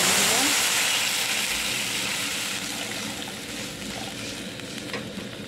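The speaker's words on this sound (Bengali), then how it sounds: "মাছের ভাজা কড়াই এবার জল দিয়ে দিলাম।" Water hits a hot pan used for frying fish and breaks into a loud, close hiss and sizzle that settles gradually over a few seconds, with faint speech underneath.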